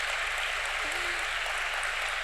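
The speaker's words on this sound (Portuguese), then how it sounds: "Uma salva de palmas para as retirantes" A church congregation at an evening celebration claps steadily for the women returning from a retreat, an even wash of applause with a low hum beneath it.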